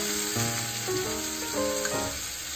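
Steady, loud sizzle of food sautéing in a pan with soy sauce for Soyabean Manchurian, with faint clinks of stirring throughout and no talking.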